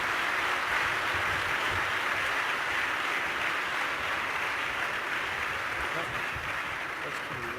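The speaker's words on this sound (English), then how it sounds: "So join me in a round of applause for all of these young investigators." A conference audience gives a long, even round of applause for young investigators at an opening ceremony, dense clapping that continues without pause and fades slightly toward the end.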